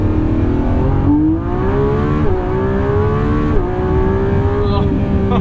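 Lamborghini Revuelto in Corsa mode with manual shifting, accelerating hard from inside the cabin: loud rising engine wail that climbs, drops at two upshifts and climbs again.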